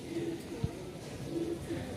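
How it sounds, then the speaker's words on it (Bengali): Racing pigeons, leg-tagged and large, give soft low coos in a few short bursts over a murky room background, close by and fairly quiet. "আজকে যে কবুতরগুলো দেখাবো ফার্স্টে আপনাদেরকে রেসার দিয়ে শুরু করতেছি"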